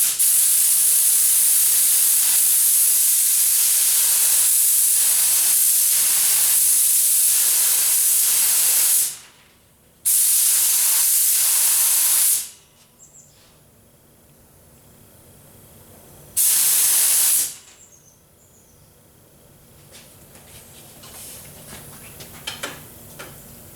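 Close and loud, a DeVilbiss FLG spray gun hisses out primer during a fan-pattern test for a Ford Flex bumper cover repair, with one long burst followed by two short ones and quiet pauses between.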